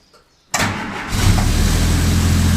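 A Ford GPW jeep engine cranks briefly and catches, then settles into a loud, steady idle close by, with the starter's burst giving way to a continuous engine rumble.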